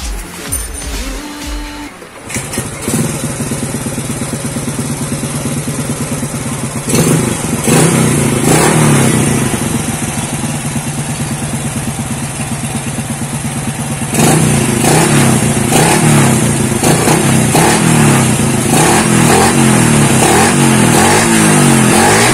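A Honda EX5 motorcycle fitted with a TS125 carburetor revs hard and close, its engine droning loudly and continuously with repeated surges in pitch over about twenty seconds.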